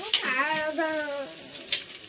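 Garlic frying in oil, a steady sizzle with stirring, heard up close in a home kitchen, with a brief tonal whine over the frying.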